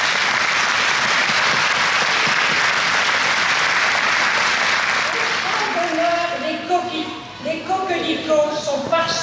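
Audience applause for children at a WWI centenary ceremony with parade and songs in France, a dense sustained roar of clapping that fades after about six seconds into scattered claps and voices.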